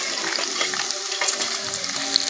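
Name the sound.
spices with ginger and peanuts frying in oil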